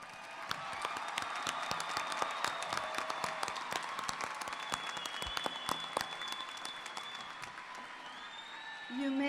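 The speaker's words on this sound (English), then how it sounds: "Now you can applaud" University commencement audience applauding graduating arts and humanities candidates, a broad wash of crowd clapping with sharp individual claps, sustained for several seconds and easing toward the end.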